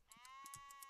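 A sheep in the Minecraft modpack Tekxit 3 gives a short, faint, wavering bleat, a single quick, buzzy game cry on its own.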